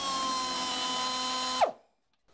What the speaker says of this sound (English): You gotta love an air tool.